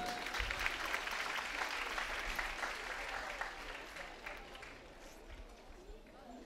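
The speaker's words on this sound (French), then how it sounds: "On peut l'applaudir très fort, s'il vous plaît." An arena crowd applauds a show jumping rider after a clear round, steady clapping that slowly fades, heard at a distance with a commentator's voice over it.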